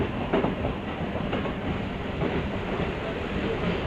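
A MEMU train rolls into Itwari Junction on the Howrah–Nagpur–Mumbai main line, heard from on board as a steady rumble with rhythmic clickety-clack of wheels over rail joints.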